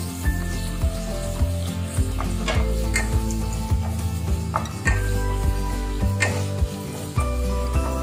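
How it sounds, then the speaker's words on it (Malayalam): Sliced onion sautéing in a pan, a loud continuous sizzle with a rhythmic series of metallic scrapes and clanks as a spatula stirs it roughly once a second. "ഇതിലേക്ക് അല്പം സവാള ഇട്ട് കൊടുക്കാം. നന്നായിട്ട് വഴറ്റി കൊടുക്കാം."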